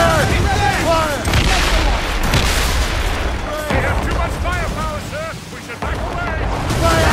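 Ship cannons firing in a naval battle in Assassin's Creed Rogue, dense booming volleys over crackling battle noise and water, with someone repeatedly shouting commands throughout.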